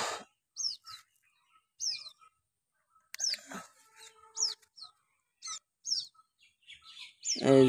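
White-breasted waterhen chicks in a jungle give short, high chirps in repeated bursts, close and clear against near silence, with a louder rustle at the end.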